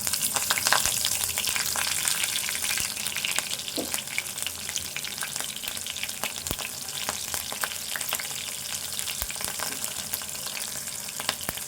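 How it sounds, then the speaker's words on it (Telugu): Green chillies and tempering spices frying in hot oil, a steady dense crackling sizzle with scattered pops, close and fairly loud throughout, with no voices. "తాలింపు వేగాలి"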